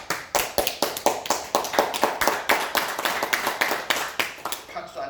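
An audience at a religious lecture claps in a steady rhythmic unison, about four claps per second, continuing for several seconds before trailing off.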